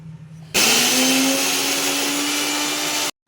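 A kitchen mixer grinder switches on abruptly and runs with a loud, steady whirring whine, then cuts off sharply after about two and a half seconds. A faint hum precedes it.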